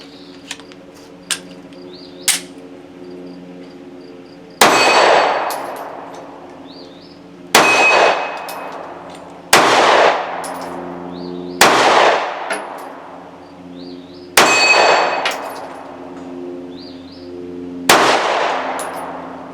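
Eight sharp gunshots from a Mossberg MC1sc pistol fed from a Glock 43 magazine, three lighter reports early on, then five loud booming shots spaced a couple of seconds apart, each with a ringing decay, and no talking.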